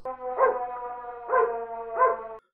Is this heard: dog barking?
yes